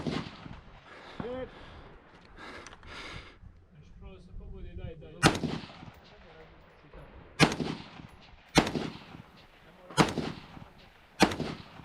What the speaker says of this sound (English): Thanks to CMC making a fairly light trigger, I easily bump off quite a few rounds here,